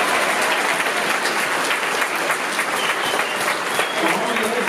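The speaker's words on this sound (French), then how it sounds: "C'est beau, applaudissements." Sustained, close applause from a convention audience at a manga event's panel rolls on evenly throughout, loud and dense with crisp individual claps.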